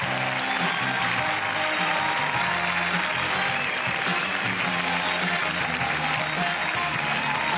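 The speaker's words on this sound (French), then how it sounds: "Mesdames et messieurs, un tonnerre d'applaudissements" A theatre audience at a Cannes comedy show gives sustained, dense applause as a comedian is introduced on stage, a steady loud wash of clapping with no talk over it.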